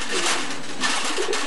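Pigeons at a pigeon farm in Kaliakair, Gazipur, cooing softly in a continuous, close murmur with steady background hiss and no talk.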